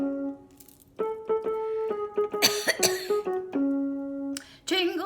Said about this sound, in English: I'm going to cough for a minute while I'm getting regrouped.